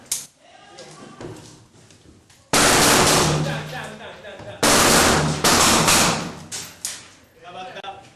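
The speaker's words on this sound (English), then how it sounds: "He's firing at us." Bursts of gunfire during urban combat training while clearing a room, with two loud, sustained volleys of shots separated by quieter stretches where voices talk.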